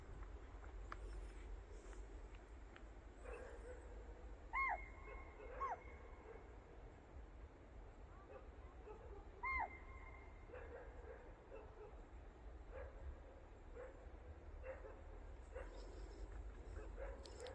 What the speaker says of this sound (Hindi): गांव के डॉग भौंक रहे हैं लगातार,